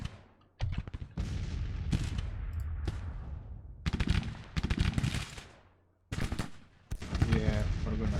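Artillery battery fire in the Grand Tactician: Civil War strategy game, loud booming volleys in several long rolling bursts separated by brief pauses, with a voice talking faintly underneath.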